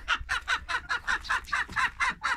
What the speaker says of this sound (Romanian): Găinușa, cocoșelul.